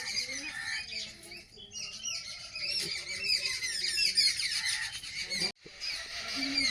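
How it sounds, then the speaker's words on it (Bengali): Birds squawk and chirp repeatedly among the trees, a busy chorus of overlapping calls at moderate distance, with a brief drop near the end. "সকালে পাখি এত ডাকাডাকি করছে এই গাছগুলোর মধ্যে"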